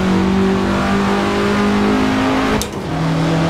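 A 1967 Russell Alexis Mk.14 Formula Ford racing car in Assetto Corsa, its engine droning loud and steady at high revs with a few pitch shifts and a brief lift around a gear change, heard alone.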